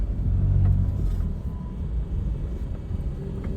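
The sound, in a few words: Tata Intra V20 pickup truck engine running with AC on, cabin noise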